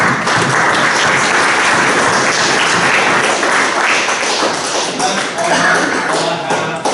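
Loud, dense applause from a London city council meeting audience, sustained clapping filling the room for several seconds with no talk over it.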